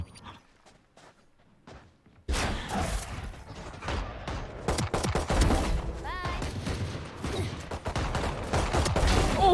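Gunfire bursts out in a Valorant-style tactical shooter match, a dense fusillade of rapid shots with footsteps and mechanical clicks after a quiet lead-in, loud and close throughout while voices call out over the action.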